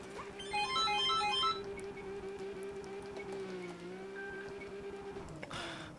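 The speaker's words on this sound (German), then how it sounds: "Dieses scheiß Telefon." Telephone ringtone chirping in a quick melodic burst near the start over a steady game engine drone from Need For Speed ProStreet, then fading as the car sound carries on alone.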